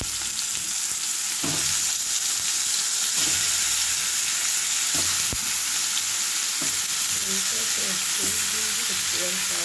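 Stuffed brinjals sizzle steadily in a pan with an onion, green chilli and dried chilli masala, while a spoon stirs and scrapes in occasional bursts.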